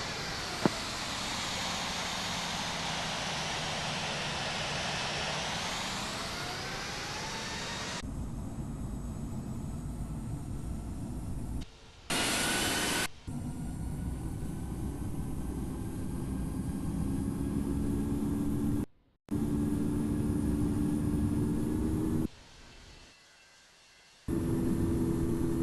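Airliner jet engines spool up for takeoff in the flight game Infinite Flight: a loud steady roar with a rising whine, broken by a few abrupt cuts and level changes.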